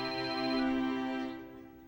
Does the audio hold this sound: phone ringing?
yes